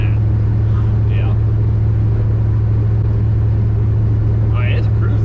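Car with an ACES Jackpot nitrous system cruising around 1,600 RPM at roughly 47 mph, a loud steady low engine drone and road rumble heard from inside, with people talking over it.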